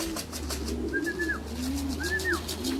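A racing pigeon coos softly twice in low, rolling phrases, alongside a higher whistling bird call and a steady background hum.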